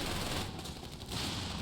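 Machine-gun fire in Company of Heroes 3 on the Taranto Coastline map, heard as dense, rapid bursts in a distant battle din that drops off briefly in the middle and then resumes.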